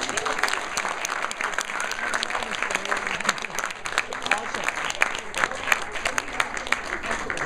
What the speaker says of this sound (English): I want you to clap for the people who are.